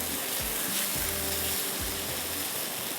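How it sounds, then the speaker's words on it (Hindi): Black pepper and spices fry with onions in a hot pan, giving a steady, dense sizzle with a few soft low thuds from stirring. "ये अभी इसके साथ प्याज के साथ थोड़ा भुनेगा"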